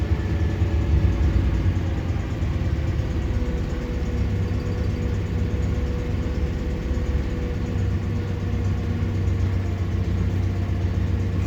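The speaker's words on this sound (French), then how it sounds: "Le ralenti est totalement stable." A Citroën 2CV engine idles steadily and close by, a continuous, even mid-pitched rumble that holds without revving for the whole stretch.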